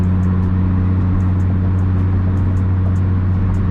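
Nissan 350Z with a single exit exhaust and art pipes, idling outside the car with a loud, deep, steady burble and low rumble.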